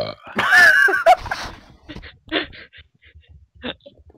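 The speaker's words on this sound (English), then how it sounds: "I was so shocked I burped." A loud, drawn-out burp rises near the start, followed by scattered voices and laughter from people talking and reacting.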